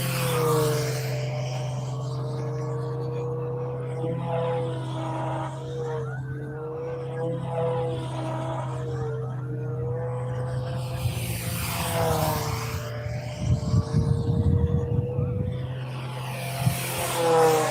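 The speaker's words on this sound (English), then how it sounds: "So this is Bob Hunt out there putting in a practice flight." A model airplane flies a practice run at an appearance-judging event, its propeller engine droning steadily with a shifting pitch as it passes, distant and continuous, with some wind buffeting toward the end.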